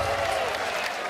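A packed darts crowd at Lakeside, during the BDO World Championship final, applauds and cheers a maximum score. The applause is loud, dense and unbroken, with no clear talk over it.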